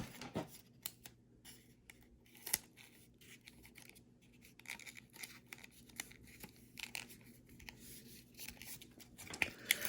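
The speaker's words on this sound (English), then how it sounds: "So I'm just gonna go tape along that seam here." Adhesive tape is pressed and smoothed along the seam of a homemade paper rocket, giving soft scattered crinkles, rubs and light tearing noises, close up and quiet, with no voices.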